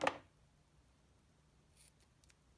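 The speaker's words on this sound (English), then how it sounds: "let me just cut a couple of pieces here" A single crisp snip of scissors cutting paper pieces for a gift card holder, close and brief at the start, followed by near silence with a couple of faint rustles.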